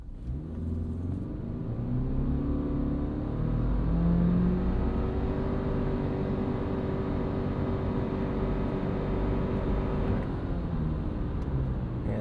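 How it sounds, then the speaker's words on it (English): Subaru Forester Wilderness SUV with a boxer engine and CVT accelerating from a stop in Sport Sharp mode: a steady, droning engine rumble that builds and holds with rising tonal whine, heard from inside the cabin with no talk. "we'll show you what it's like off the line in Sport Sharp"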